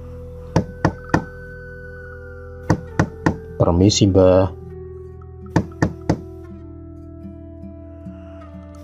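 A door being knocked on, used as a sound effect in an illustrated story, comes as sharp wooden raps in short groups of three, with a brief spoken greeting in between the groups.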